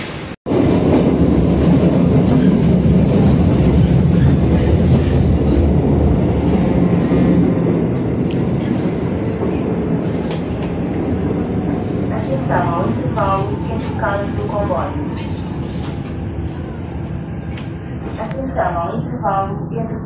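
A Lisbon metro train rumbles steadily with broadband noise throughout, while voices speak intermittently over the running sound in the latter half.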